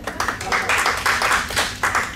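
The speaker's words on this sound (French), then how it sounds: "On peut l'applaudir." Brief applause at an author meet-and-greet for the event's technician, with loose, rhythmic bursts of clapping pulsing several times a second from a smallish crowd.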